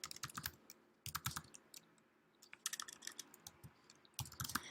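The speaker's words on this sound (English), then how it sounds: "and I'm going to type in Proximity" Fingers typing on a computer keyboard in quick bursts of light clicking keystrokes, with brief pauses between words, close and fairly quiet.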